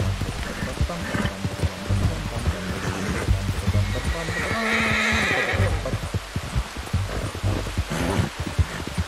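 A horse neighs and whinnies over a busy, layered game soundscape in Red Dead Redemption 2, with hoofbeats and low rumbling, moderately loud and close; the horse's stamina is very low.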